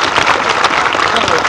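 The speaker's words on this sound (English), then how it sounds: "Give me a round of applause, would you, for Carol." Dense, loud applause from a radio roadshow audience, a steady wash of many hands clapping at once, with crowd noise and voices mixed in throughout.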